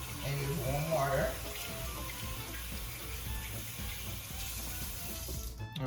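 Warm tap water running into a kitchen sink while hands are washed with soap after handling raw chicken, a steady close splashing stream with a brief louder gush near the start, quiet and continuous.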